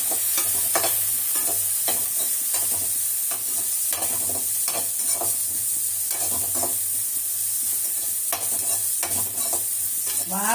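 Bitter gourd with turmeric powder sautés in a pan, giving a steady sizzle broken by repeated scraping stirs of a spatula, close and clear with no talking.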